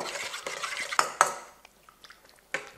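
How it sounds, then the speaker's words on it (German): Spoon stirring asparagus salad dressing in a bowl: a few sharp clinks of metal against the bowl early on, then softer scraping and light taps, close by with no voices. "und das Ganze rühren wir jetzt einmal durch"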